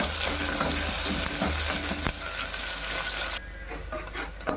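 Onion pieces frying until golden, a loud dense crackling sizzle close up, with a low hum beneath, easing slightly near the end.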